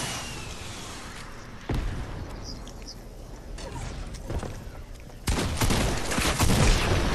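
RPG rocket launcher fire in the video game Fortnite, bursts of blasts and rattling gunfire with louder hits near 1.7 and 5.3 seconds over a steady game din.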